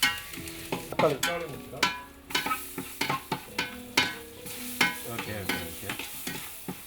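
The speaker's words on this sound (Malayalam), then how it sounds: "ഇതെല്ലാം കൂടി ഇങ്ങനെ ഏകദേശം ഇളക്കി ഇളക്കി ഇളക്കി അടിയിൽ പിടിക്കാത്ത രീതിയിൽ വയറ്റിക്കൊണ്ടിരിക്കുകയാണ്" Chicken masala for a pepper fry is stirred in a pan with tomato pieces, giving repeated sharp scrapes and knocks of a spoon against the pan in an uneven rhythm over a low sizzle, close and fairly loud.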